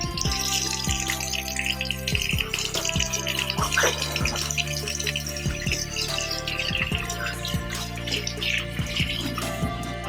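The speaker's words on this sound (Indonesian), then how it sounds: "kita cuci tangan menggunakan sabun dan juga air mengalir" Hands washed with soap under running tap water, a steady, close splash of flowing water with scattered drips and clinks throughout, with no voices.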